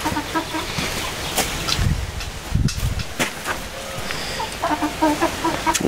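Faverolles and Marans hens cluck and chatter close by in a backyard flock, with soft rustling between their calls.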